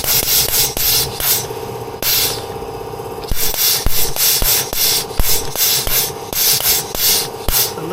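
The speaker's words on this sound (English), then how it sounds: "Turn the pressure down on this a little bit now so I can pump a little bit more smoothly into the bearing." A grease gun pumps grease into a bearing in a series of rhythmic rasping strokes, each stroke a scraping gush with a faint click between, close and loud, with no talking.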